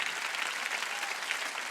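A church congregation at a Sunday worship service applauds with dense, continuous, even clapping from many hands, sustained and moderately distant throughout with no clear breaks.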